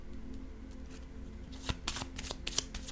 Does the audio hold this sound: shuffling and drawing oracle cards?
yes